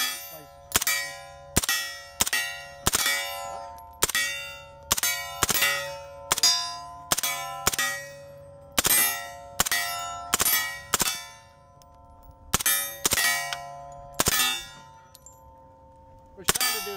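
An MP5 fired on full auto but controlled to single shots rings steel targets: about two dozen sharp, separate clangs, each followed by a ringing metallic decay, spaced irregularly roughly half a second to a second apart.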